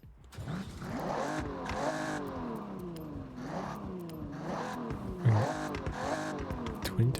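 Ferrari F40 stock 3.5-litre V8 in Forza Horizon 6 revs in a series of rising and falling sweeps, fairly faint and steady, with a couple of sharper bumps near the end.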